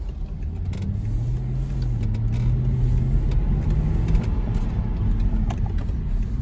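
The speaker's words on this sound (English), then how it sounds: "Idle's nice and smooth now." A BMW 550i E60 N62 V8 engine idles smoothly and steadily after a valve cover gasket repair, a low even hum with a faint whine drifting slightly in pitch, no voices.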